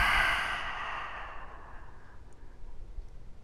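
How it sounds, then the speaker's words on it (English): A single deep exhale during a breathing exercise for back pain, starting strong and breathy then tapering into a quiet, fading breath. "And exhale."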